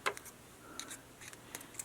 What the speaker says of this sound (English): I'll be cutting this part off.